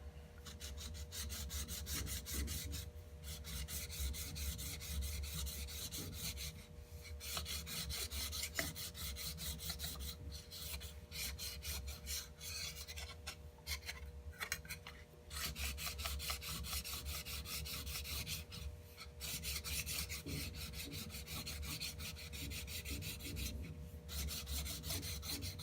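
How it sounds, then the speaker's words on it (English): A combination square's nicked edge is stroked with a file in a long run of steady, close rasping passes with short breaks between sets, dry and scratchy with no talking. "Deburr the edge."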